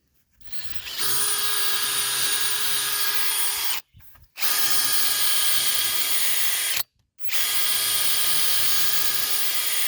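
A power drill whines steadily, pre-drilling into a wooden railroad tie in three long runs, each stopping briefly before starting again, loud and close.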